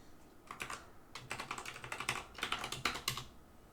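Soft, quick keystrokes tap on a computer keyboard as a password is entered, an irregular run of light clicks close by and fairly quiet.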